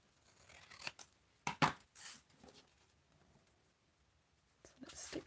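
Scissors snip through paper to cut it in half, a few short close cuts and rustles separated by quiet gaps, with faint whispered speech.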